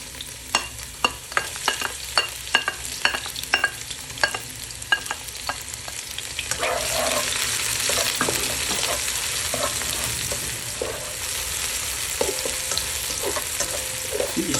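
Garlic and onion sautéing in cooking oil for Pampanga-style chicken asado, starting with sharp utensil clicks and stirring, then a steady loud sizzle and crackle of frying that continues to the end, close and without talk.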